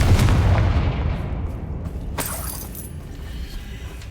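A Confringo fire spell explodes in Hogwarts Legacy. One loud, close boom hits at once, then a rumbling tail with crackling debris fades over several seconds.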